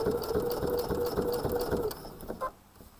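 A sewing machine with a bi-level foot runs steadily while stitching binding onto fabric, a close, even mechanical whir for about two seconds before slowing and stopping with a few light clicks.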